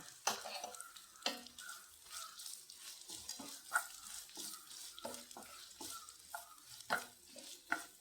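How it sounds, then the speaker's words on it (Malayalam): Grated coconut is stirred into a frying pan, with repeated scraping and tapping strokes of a utensil over a soft sizzle, close and fairly quiet, in an irregular rhythm. "നമുക്ക് തേങ്ങ ചേർത്ത് കൊടുക്കാം"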